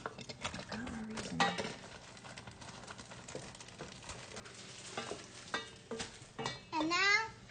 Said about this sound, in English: Celeste, you can stir and melt those marshmallows now.